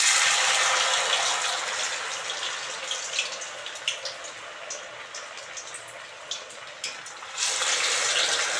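Poha vada batter, shaped with a hole in the middle, dropped into hot oil, giving a steady bright hiss and crackle of frying, dipping slightly midway with small pops, then swelling loud again near the end; no talking.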